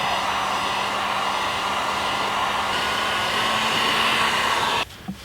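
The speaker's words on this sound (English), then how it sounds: "So I think I will use my heat gun." Heat gun blowing steadily to soften adhesive on a Cherokee XJ upper quarter panel, a loud continuous airy whir with a faint tonal hum that cuts off abruptly near the end.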